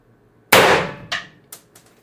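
An IntruBuster Gen 2 launcher fires a single 7.3 g solid aluminum projectile: one sharp, loud crack that rings briefly, followed by a couple of smaller clanks and rattles.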